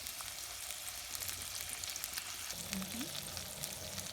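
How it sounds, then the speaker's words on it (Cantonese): Shrimp pan-fry slowly over medium-low heat in garlic oil, a soft steady sizzle that stays quiet and even throughout, with a faint scrape near the end. "蒜蓉油起鑊，將蝦放入去，中小火慢煎"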